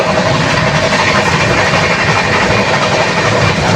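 Steady, loud rumble and rattle of a moving train to Prayagraj from inside the carriage, with faint rhythmic wheel clatter underneath and no talking.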